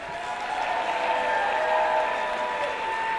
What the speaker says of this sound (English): I think a bigger, thunderous applause.